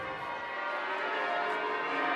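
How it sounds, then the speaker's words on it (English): The church bells of St Paul's peal in a dense, ringing wash of overlapping metallic tones. The sound is steady and continuous, slightly distant, with no voices. "the glorious pealing of the bells of St Paul's"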